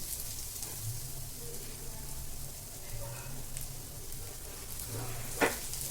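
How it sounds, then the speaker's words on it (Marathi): Bangda mackerel fries in hot oil in a pan, giving a steady close sizzle with faint crackles and a brief louder pop near the end. "आता आपले तेल छान गरम झाले। आता आपण याच्यामध्ये फिश फ्राय करून घेऊया।"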